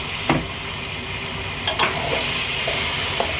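Water is poured into a Thai fiddlehead fern stir-fry in a wok, producing a steady close sizzle, with a few sharp scrapes and clacks from the stirring utensil and no talking.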